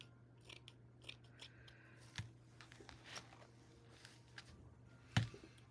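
Scissors make quick, faint snipping cuts while trimming paper for a junk journal, scattered crisp clicks up close with a steady low hum beneath and one sharper snap near the end.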